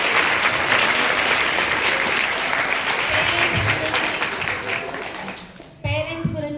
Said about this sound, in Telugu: క్లాప్స్ కొట్టండి ఫస్ట్.